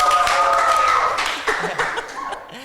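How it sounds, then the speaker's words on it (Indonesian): An audience at a live podcast event claps briefly and unevenly, the scattered claps fading as voices and light laughter take over. "tepuk tangan dulu dong"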